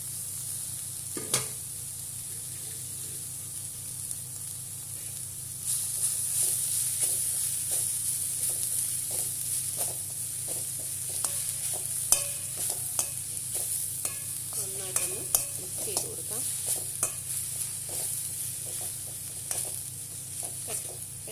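Steady sizzling of food cooking in an open pan, with occasional clinks and scrapes of stirring throughout.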